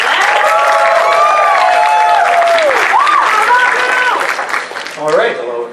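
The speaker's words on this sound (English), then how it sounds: "All right, big round of applause. Come on, we can do better than that." A crowd at a furry convention talent show applauds a fursuit comedy act, loud clapping and cheering with whoops over it throughout, then easing toward the end.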